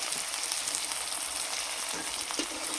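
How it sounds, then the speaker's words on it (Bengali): Ground turmeric, cumin and chilli masala sizzles steadily in hot oil in a pan, a close, even crackling hiss with a few brief stirring scrapes. "মশলাটা ভালোভাবে কষিয়ে নেব।"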